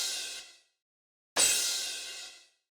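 A cymbal choke sample for a Pearl Mimic kit plays twice: a bright, hissy splash that decays over about half a second, then after a short silence a louder hit with a longer fading tail.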